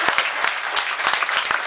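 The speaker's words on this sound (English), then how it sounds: "NCOs, please applaud." NCOs applauding at a Veterans Day ceremony, a brief burst of many hands clapping in an uneven patter, full and close, with no voices over it.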